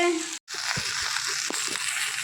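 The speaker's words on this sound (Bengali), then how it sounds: "ভেন্ডি ভাজা হচ্ছে" Okra (bhindi) fries in a pan at home, giving a steady broadband sizzle that runs throughout except for one brief near-silent gap, with a few soft low knocks underneath.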